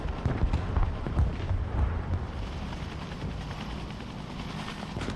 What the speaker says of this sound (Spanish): Vamos a hacer un poquito de apoyo aquí con los helicópteros